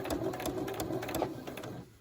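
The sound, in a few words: sewing machine stitching a fabric face mask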